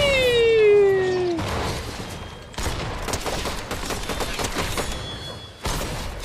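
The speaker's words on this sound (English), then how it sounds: "If I find a person, I'm probably going to shoot them like this." Gunfire in Fortnite: repeated loud, rapid volleys of shots in several bursts separated by brief gaps, following a falling whistle-like tone at the start, close and dominant with no talk.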